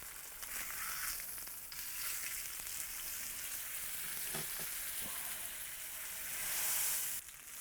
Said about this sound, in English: All right, pan's hot. We're gonna go in with our steak.